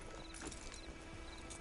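Horse hooves clip-clop in the video game Red Dead Online, a quick, even run of hoof strikes over a soft background hiss.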